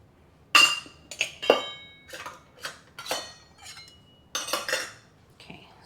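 A spoon stirs a tablespoon of sugar in a bowl for a sourdough discard recipe, giving a close series of irregular clinks and scrapes against the bowl with quiet gaps between them.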